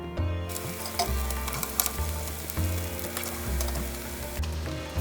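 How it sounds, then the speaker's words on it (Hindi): Chicken pieces deep frying in hot oil on a medium gas flame for Chicken 65, giving a continuous loud sizzle and crackle with low rhythmic sounds running underneath. "बाकी चिकन पीसेस भी फ्राई कर लेती हूँ।"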